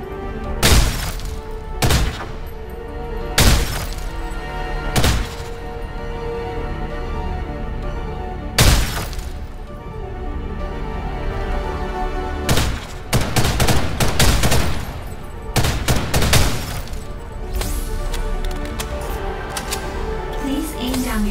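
Hipfire gunshots ring out in a video game target-training course, sharp loud reports in irregular singles and rapid bursts over a steady background hum and music, with a voice speaking at times.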